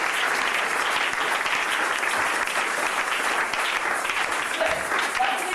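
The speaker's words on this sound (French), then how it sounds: "Acclamez très fort." A church congregation applauds and cheers loudly and steadily, a dense wash of clapping with crowd voices mixed in, sustained without pause.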